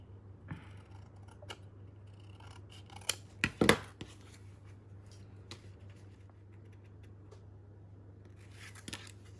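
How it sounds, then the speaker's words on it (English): Scissors trimming a crooked paper edge for an envelope flip, a few quiet snips clustered near the middle against a steady low hum, close and faint, with no talk. "we can just trim that up a little bit"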